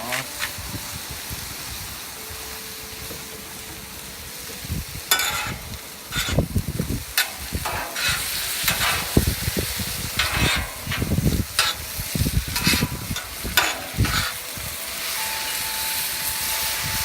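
Teriyaki sauce sizzles on a hot Blackstone griddle in a steady hiss, with sharper crackling bursts and scraping stirs that come and go.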